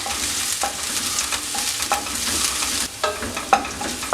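Two green chilies sautéing in a pan while an easy egg snack is being prepared, giving a steady close sizzle with light scraping stirs and a few sharp ticks of utensil on the pan, with no talking.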